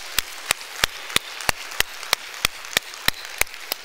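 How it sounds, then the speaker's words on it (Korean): Congregation in a church clapping in unison, about a dozen sharp, evenly spaced claps at a steady rhythm, close and fairly loud over a quiet room. "박수를 한번 치는 거 하나님께 영광의 박수."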